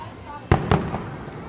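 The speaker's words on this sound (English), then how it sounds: "How would you like to be up on the Sky Tower right now watching these fireworks?" Fireworks burst over Carowinds amusement park in Charlotte, North Carolina, with two sharp, loud booms close together followed by a softer third pop, set against a murmuring crowd and talking nearby.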